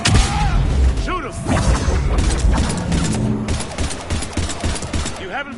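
Rapid gunfire and booming shots fill a firefight in the video game Mass Effect Legendary Edition, loud and continuous, with shouting voices breaking through the barrage.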